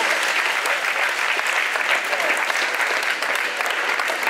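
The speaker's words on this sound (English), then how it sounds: "give her a round of applause" A school audience applauds a staff member, with steady, sustained clapping from a crowd throughout, loud and continuous with a faint hint of voices underneath.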